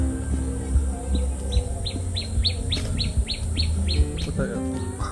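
A bird gives a rapid series of about a dozen high, evenly spaced chirps, heard over a low background rumble.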